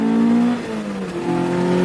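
An Acura Integra's B16A engine with a five-speed manual revs hard into VTEC and climbs in pitch, holding a loud, steady drone that rises again toward the end, close and continuous.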